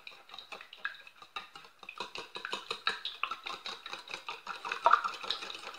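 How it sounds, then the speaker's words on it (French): Three eggs being beaten in a bowl for brioche: a quick, steady rhythm of light clicking taps from the utensil against the bowl, close and fairly soft, with no talking. "Je vais battre mes 3 œufs"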